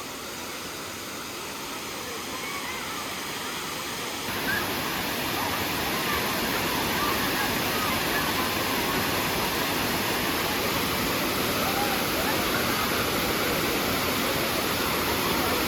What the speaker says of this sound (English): And there's Rutledge Falls.